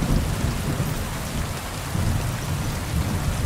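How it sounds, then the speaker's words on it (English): In the video game Kingdom Come: Deliverance 2, steady heavy rain pours down with a low rumbling of thunder rolling underneath, dense and continuous throughout. "I think they've captured the sound and the feel of bad weather pretty well."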